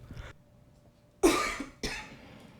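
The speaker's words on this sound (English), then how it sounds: "I had just had to clear my throat" A man clears his throat twice in quick succession, harsh bursts heard close, with a faint short sound before them and no talking.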